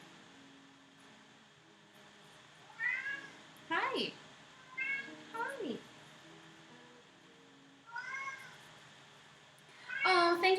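Cat meowing repeatedly in a kitchen, several short rising meows spaced a second or two apart, with a louder drawn-out meow at the end, while someone speaks briefly in between.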